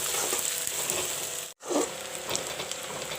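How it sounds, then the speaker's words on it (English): Sliced onions fry in a pan with a soft, steady sizzle, cut by a brief silent break midway before the crackle resumes, heard close and without talking. "some sliced onions, I will let the onions fry a bit."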